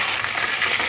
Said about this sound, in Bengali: এরপরে এই তেলের মধ্যে মাছের মাথা দুটো ভেজে নেব।